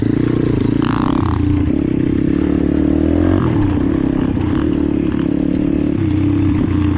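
Yamaha Raptor 250 quad bike ridden off-road, its engine droning steadily and loud throughout with shifting revs, clattering and scraping mixed in, no talk.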